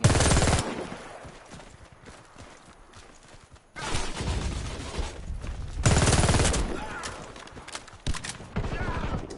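Gunfire bursts from the online shooter Warface, loud sharp volleys around the start and again mid-way, with quieter clatter and game noise between.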